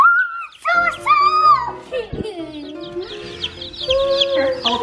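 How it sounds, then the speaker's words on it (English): Baby chicks bought from a feed store give high, bright peeps and cheeps close by, some overlapping, while people talk over them. "Hello, chicks."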